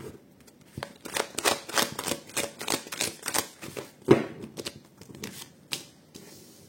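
Tarot cards laid one after another on a table, a series of crisp, close slaps and flicks in an uneven rhythm, with one sharper snap near the middle.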